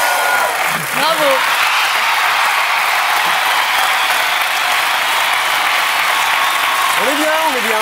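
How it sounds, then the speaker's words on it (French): A studio audience at a quiz show keeps up loud, sustained applause, a thick wash of clapping under a host's brief spoken remarks near the start and end. "Arrêtez d'applaudir là."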